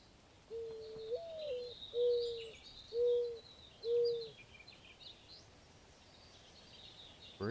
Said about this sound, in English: my cats were very interested in those bird sounds